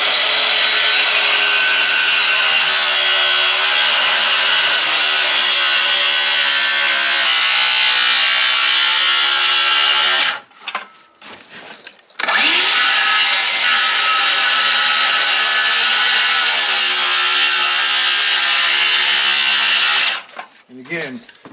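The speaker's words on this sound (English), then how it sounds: "I could continue my skill saw up and complete this cut, but it kind of weakens the board, so I like to use a jigsaw" A jigsaw cuts through a wooden roof rafter board on a shipping container barn build. The buzzing cut is loud and close, runs for about ten seconds, pauses briefly, then resumes for another eight seconds.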